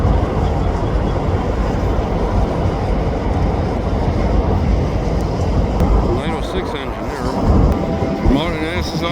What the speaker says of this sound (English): I can hear the other engine